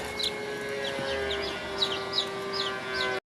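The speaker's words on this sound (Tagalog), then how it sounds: "ito po yung dalawang sisiw kahapon" Small chicks peep in a quiet indoor setting, high thin chirps repeating in short bursts over a faint steady hum.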